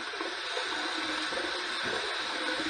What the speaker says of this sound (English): let's heat this up under some hot water